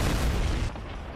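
A guided missile explodes in a video game, a short deep boom with a rumbling low-end burst that cuts off abruptly and leaves a brief fading tail.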